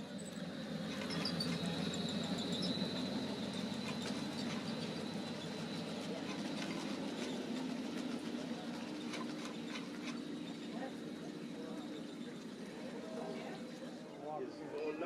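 Garden railroad model train running on outdoor track, a continuous rolling rumble with faint wheel clicks and squeals, heard under people talking throughout.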